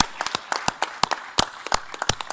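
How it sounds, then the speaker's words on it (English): A sparse audience at a finance minister's formal speech claps in scattered, sharp, uneven hand claps, close and distinct rather than a full ovation. "We should clap a little bit."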